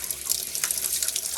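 A kitchen tap runs steadily into a sink during cleaning, a continuous close splashing hiss with no pauses.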